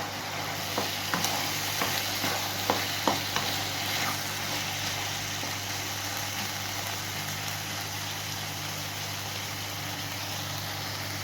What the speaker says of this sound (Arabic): احط بقى البصل والطماطم كده مع بعض